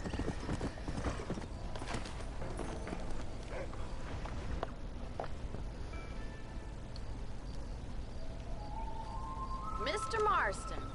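Hooves of a galloping horse in the Red Dead Redemption video game clop rapidly and steadily, close and continuous, while a voice talks over them and a whinny-like cry rises near the end.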